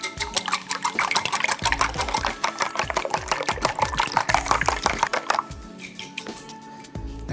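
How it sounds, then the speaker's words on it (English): Five eggs are whisked together in a bowl for Chinese tomato fried egg, a fast steady rhythm of close wet tapping and sloshing that stops near the end. "I'll just give these a little whisk together."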